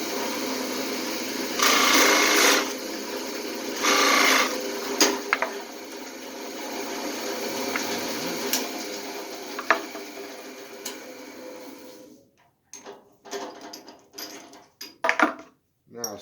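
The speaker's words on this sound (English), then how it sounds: "Now we're at the Packard 12-speed precision drill press, and I've got a Forstner bit in here" A Packard 12-speed precision drill press running with a Forstner bit, giving a steady mechanical whir with louder bursts as the bit cuts, then the motor stops and scattered clicks and knocks of handling follow, all close by.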